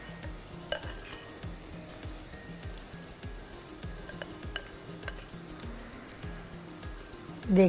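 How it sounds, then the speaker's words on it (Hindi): Gram flour pakoras bubble and sizzle steadily in hot oil over low-medium heat, a continuous frying hiss with soft repeated scraping from a utensil moving through the pan, close and alone without talk. "देख सकते हैं कितने आसानी से हमारे पकोड़े खुद ब खुद फ्राई होके ऊपर आ रहे हैं"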